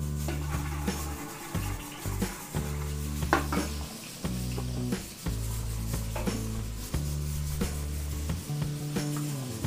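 Margarine sizzling in a cooking pot for puchero, a steady frying hiss with a metal spoon repeatedly scraping and clanking against the pot, close and fairly loud.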